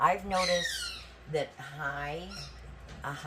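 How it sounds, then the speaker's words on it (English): A dog plays with a squeaky toy indoors, producing a few sharp, high-pitched squeaks up close that overlap and alternate with someone talking nearby. "that's my dog. She's so cute with her toy."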